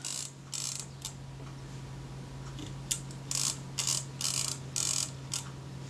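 Fingers tighten the film advance knob and work the winding mechanism of a Kodak Retina I type 126 camera, producing soft clicks early on and then a run of ratcheting bursts over a steady low hum.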